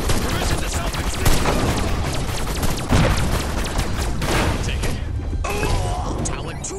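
Gunfire crackles in the Destroy All Humans! suburb level with grenades, dense rapid shots and thuds piling up continuously, loud and busy, with game voices calling out over the barrage.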